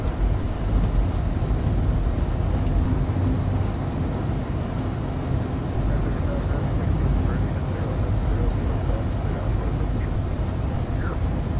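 A Boeing 787 on final visual approach to runway 28 at Tampa in a flight simulator, with a steady, loud, broadband engine and airflow roar that continues without a break throughout.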